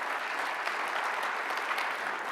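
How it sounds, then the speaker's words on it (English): Applause from a large keynote audience, a continuous even roar of many people clapping at moderate loudness, sustained without pauses or voices. "How about we give them another round of applause?"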